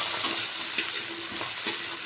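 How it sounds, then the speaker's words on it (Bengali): Potatoes fry in hot oil in a wok with a loud, dense sizzle, punctuated by a few regular scraping strokes of a spatula, close up with no voices. "এবার আলুগুলো দিয়ে আলুগুলোকে একটু ভেজে নেব"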